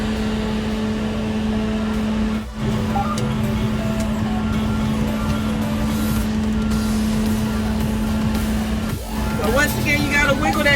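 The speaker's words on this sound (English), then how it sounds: "The truck in reverse, it got the reverse sound" A local delivery truck in reverse runs its engine steadily at close range, with a steady backup warning tone sounding throughout and a brief air-brake hiss near the end.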